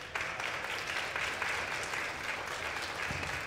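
Steady applause from young kindergarten to third-grade schoolchildren at an opening school chapel service, a continuous dense patter of many small hands lasting a few seconds.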